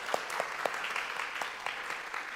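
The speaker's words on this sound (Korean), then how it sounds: "잠깐 일어나시면 우리 박수하겠습니다" Scattered applause from a church congregation during a Sunday service, modest and steady with a few sharper individual claps standing out, fairly distant.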